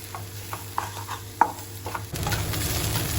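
Egg crumbled with finely chopped onion fries in a pan. A utensil stirs and scrapes in scattered knocks over a low sizzle, which swells into a fuller, louder frying hiss partway through.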